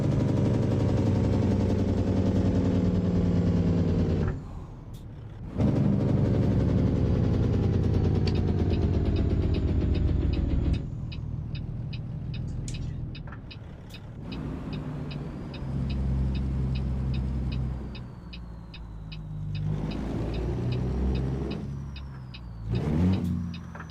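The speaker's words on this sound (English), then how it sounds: "You gotta have enough rev to downshift it." A heavy Peterbilt 389 truck in American Truck Simulator revs its engine hard, the pitch climbing and falling through several gear changes and downshifts, with short gaps where the throttle drops. Loud, close, and alone with no talking.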